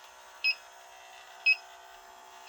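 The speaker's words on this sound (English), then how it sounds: "But here is the leak detector that I'm using." A refrigerant leak detector sweeping a heat pump coil, giving three short, evenly spaced electronic beeps about a second apart over a faint steady hum.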